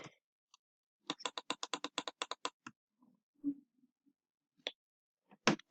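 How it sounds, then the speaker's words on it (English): Rapid computer mouse clicks during a game session, a quick burst of about a dozen sharp clicks in a row, then scattered faint taps and a few more louder clicks near the end, with no talking. "you can hear me clicking my mouse."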